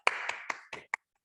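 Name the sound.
group applause, hands clapping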